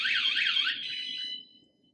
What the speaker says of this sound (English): 110 decibels unimpeded into the environment is a loud alarm, and it'll get everybody's attention.